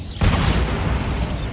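A Bombarda spell explosion in the video game Hogwarts Legacy: a single loud, deep, rumbling blast that starts abruptly and sustains for over a second with heavy low-end roar.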